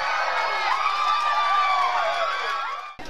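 Crowd at a London 2012 Olympic race cheering and shouting as a runner comes from behind for silver, a sustained loud roar of many voices that swells and then cuts off at the end.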